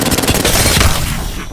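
R-99 submachine gun firing in the Apex Legends video game, a rapid burst of loud, close shots fading out at the end.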